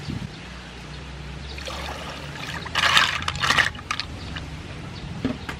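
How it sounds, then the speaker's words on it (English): Water poured into a cooking pot for a sea snail salad, a soft trickle building to a brief splashy burst midway, close and fairly quiet. "add some water."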